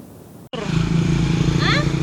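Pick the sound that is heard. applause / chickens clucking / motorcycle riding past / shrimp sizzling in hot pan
motorcycle riding past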